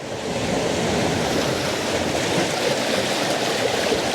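Sea waves washing onto a shore, a continuous broadband rush of surf and draining water with a steady roar, close and fairly loud, with some wind buffeting the microphone.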